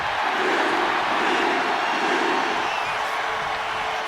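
An arena crowd in the WWE 2K25 wrestling video game roars in a steady, dense wall of cheering and noise that holds throughout without breaks.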